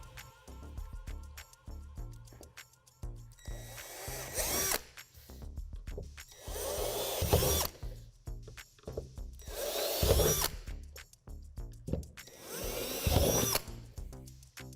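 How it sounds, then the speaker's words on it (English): A power drill bores dimples in the moulded plastic wall of a playhouse, with several loud, close bursts of whining drilling separated by pauses filled with clicks and handling of the drill. "we're going to drill out 4 dimples with the drill bit provided."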